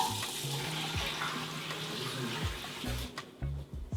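Red lentils being washed in water: running water hisses steadily while grains and water slosh and clatter in a bowl with periodic stirring knocks, close and moderately loud.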